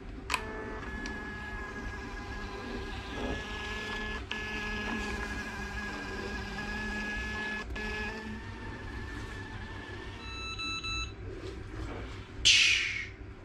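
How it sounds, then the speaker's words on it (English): A Fomimo Bluetooth label printer, run from a phone, prints a batch of labels for home-brewed mango and ginger cider bottles, humming steadily with occasional clicks and a short high chirp near the end. "I've got this Fomimo Bluetooth printer. It's connected to my phone"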